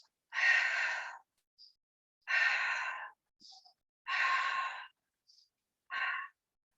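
Slow, deliberate breathing in through the nose and out during a breathing exercise, heard as four long, close, airy breaths separated by silences, with faint short sniffs between them and no talking.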